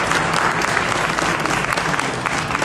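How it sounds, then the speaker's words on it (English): Dense, steady audience applause fills a Conservative meet-and-greet event with party leader Pierre Poilievre, loud and continuous throughout with no voices on top. "We should give them a round of applause."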